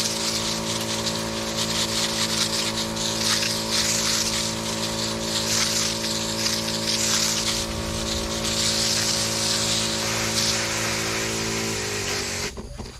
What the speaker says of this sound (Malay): kita buat semburan tajam di bawah kanopi pokok.